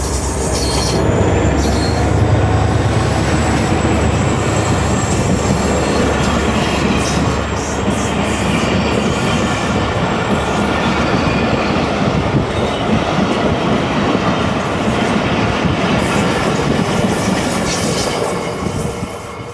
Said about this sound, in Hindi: तो जनाब ये 150 डाउन मेहरान एक्सप्रेस रवाना हो गई जंगशाही से